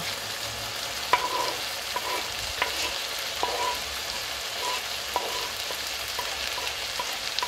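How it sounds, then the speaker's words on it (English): Carrots, mushrooms, parsley and green onions sauté in a pan, giving a steady sizzling hiss with a spatula scraping and clicking every second or so, close and moderately loud, no voices. "We'll give it a quick stir and plate the meal."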